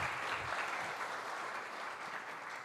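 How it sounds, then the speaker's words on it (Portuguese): A church congregation claps together in a dense, continuous round of applause, fairly faint and distant, with no voices standing out. "Agora você aplauda Jesus pela sua vida"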